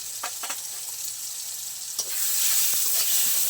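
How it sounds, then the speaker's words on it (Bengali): Spice masala with tomato, salt and a little sugar frying in a pan, a steady sizzle that swells louder after a spatula scrape, with a few brief clicks and no talking. "ভালো করে আমি একসাথে কষিয়ে নেবো মশলাটা"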